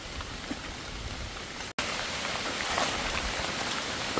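Steady rain pours down, a dense, even hiss that continues without pause apart from a very brief drop-out near the middle.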